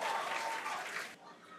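Crowd cheering and applauding at a SpaceX Starship test flight launch, a dense continuous roar of claps and voices that drops off sharply near the end.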